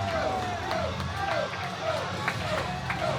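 A wrestling crowd at an indoor event cheers for Big Joe Helms, a dense roar of voices and shouts. It is steady and loud throughout, with a commentator talking over it.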